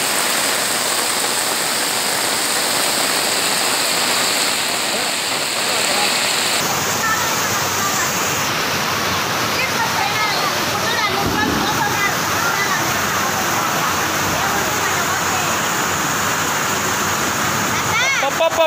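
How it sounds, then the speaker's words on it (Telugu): Heavy rain pours over the flooded Mahanandi temple grounds in Kurnool, a loud, continuous roar of falling and rushing water, with indistinct voices faintly beneath it. "చాలా భారీ వర్షం"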